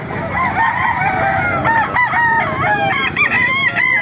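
Several roosters crow over one another in a loud, busy chorus at a chicken market in Calumpit, Bulacan, with clucking hens and a constant din of other birds filling the background.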